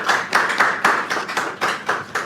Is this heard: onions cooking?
no